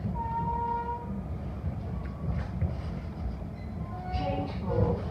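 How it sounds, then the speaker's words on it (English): A TfL Rail train travels from Liverpool Street toward Stratford, with a continuous low rumble and rattle from inside the carriage, some faint squeals, and a voice speaking over it. "This is a TfL rail service to Shenfield via Stratford."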